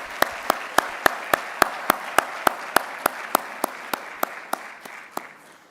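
Audience clapping at a summit in a conference venue, heard as steady, evenly spaced sharp claps that fade slightly toward the end.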